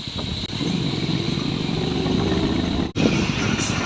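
A motorcycle engine drones steadily up close while riding a rough road toward Tawang, a continuous rumble with a brief dip partway through.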